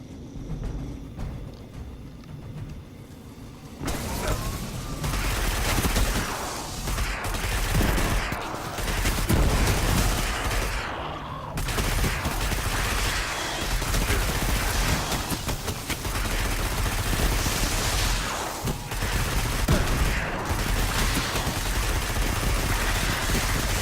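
Sustained bursts of gunfire in Destiny 2 rattle almost continuously for over twenty seconds, loud and dense with rapid repeated shots after a quieter opening.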